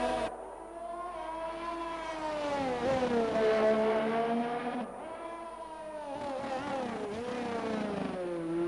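A Red Bull Honda F1 car in a racing video game screams down the pit straight, its high-pitched engine rising and falling through gear changes, loud and close with no voices.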